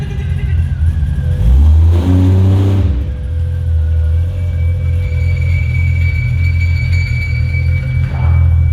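A Ford Fairlane engine from a drag build cranks, catches and revs up briefly before settling into a loud, steady rumbling idle close by, with no talk.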